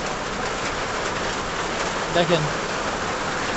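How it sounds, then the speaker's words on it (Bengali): Heavy rain pours down steadily as a dense, even hiss throughout, with a couple of brief louder knocks near the middle and a short spoken word. "প্রচন্ড পরিমাণে বৃষ্টি নামছে"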